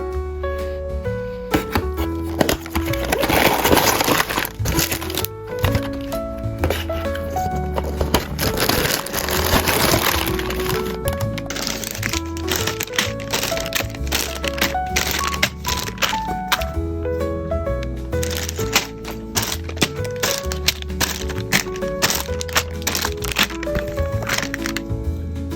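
Naruto and Boruto figure boxes are unboxed: a continuous run of close crinkling, tapping and clattering packaging noises, with plastic and cardboard handled in quick irregular bursts throughout and no talk.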